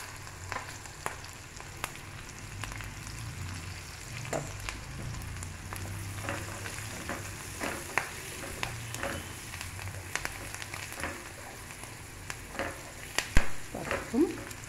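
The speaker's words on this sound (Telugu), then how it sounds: "నేను ఇప్పుడు తాలింపులో వెల్లుల్లిపాయ వేస్తాను" Garlic sizzling in hot tempering oil for a brinjal and chickpea masala curry, a continuous close frying hiss with scattered crackles and pops throughout.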